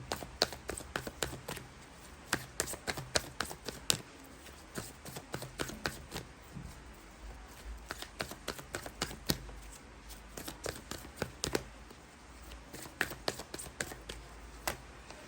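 A deck of tarot-style reading cards being shuffled, producing repeated quick riffling clicks and taps in uneven bursts, close and fairly soft, continuing throughout.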